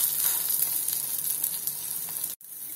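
Bread cooking in butter on a pan over low heat, a steady close crackling sizzle that cuts off abruptly near the end before resuming.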